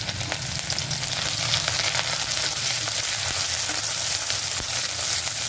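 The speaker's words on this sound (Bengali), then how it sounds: "গরম তেলে দিয়ে দিচ্ছি রসুন কুচি, গ্রেড করা আদা" Steady, crackling sizzle of chopped garlic and grated ginger frying in hot mustard oil, close and continuous with no talking.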